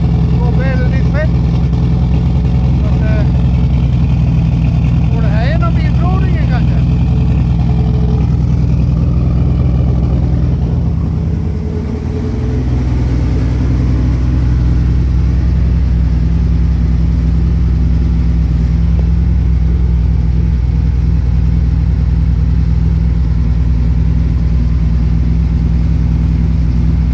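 Car engine idling steadily and loudly after a start attempt, running rich with a deep continuous rumble and a brief dip midway, while people talk over it.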